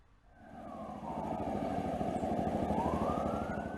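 A fire truck siren wails on a ride around town in Sinjai, starting quiet, then rising and falling in long sweeping tones at moderate distance over engine rumble.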